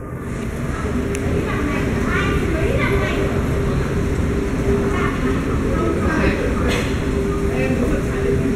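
A metro train runs at a subway station in Kaohsiung, Taiwan, a continuous loud rumble with rail clatter and scattered squeals, and voices talking over it.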